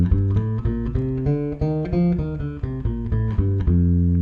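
A bass guitar runs up and down an F mixolydian scale shape in a blues bass lesson, a rapid sequence of distinct plucked notes in even rhythm, loud and close with no talking.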